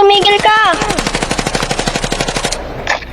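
Rapid automatic gunfire in the Roblox Brookhaven RP video game. A steady, loud stream of evenly spaced shots lasts about two seconds, then a short final burst follows.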